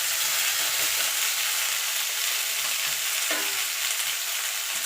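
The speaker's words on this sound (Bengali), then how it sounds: "পেঁপেটাও দিয়ে দেবো, এখানে সব সবজিগুলো দিয়ে দেবো। দিয়ে সবজিটা মিনিট খানিক একটুখানি নাড়াচাড়া করে নেবো।" Vegetables with papaya being stir-fried in a hot pan for a vegetarian curry, giving a dense, steady sizzle close by with soft scraping stirs and no talking.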